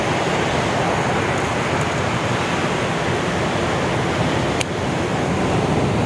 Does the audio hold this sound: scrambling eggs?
no